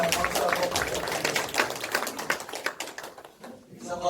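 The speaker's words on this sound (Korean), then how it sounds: "큰 박수하고" Attendees at a Hwaseong citizens' regional meeting clap in a brisk burst of scattered applause that thins out after about three seconds, with talking mixed in.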